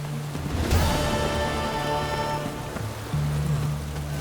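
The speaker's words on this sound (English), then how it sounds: "Looks like rain." Steady rainfall in The Witcher 3 video game, a continuous hiss of rain with low ambient rumble throughout, no voices present.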